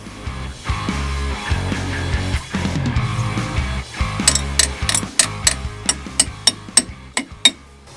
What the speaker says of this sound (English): we got the switch to kind of work, but the Bendix on the starter isn't coming out to engage with the flywheel